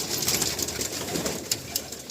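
Pigeons in a breeding loft where the birds have settled in pairs give off steady, soft cooing throughout, with several birds overlapping close by and no talking.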